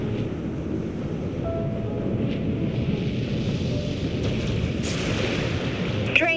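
Primary weapons of a spaceship firing in the Dreadnought space combat game, a continuous loud rumbling barrage of heavy booms with a brief sharp burst near the end.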